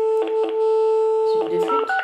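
Telephone dialing tones while redialing after a call cut out: a steady electronic tone with a run of short keypad beeps, clear and close, with no talking over them.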